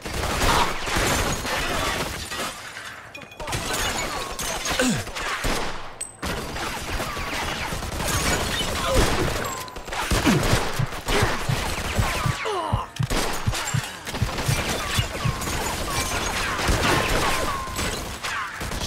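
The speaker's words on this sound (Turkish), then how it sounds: "Almış bir de taramalıyı. Boncuk atıyor sanki." Machine-gun fire in a Mafia 2 Definitive Edition shootout, with loud, sustained bursts and heavy thuds filling a dense, chaotic gunfight that continues almost without pause.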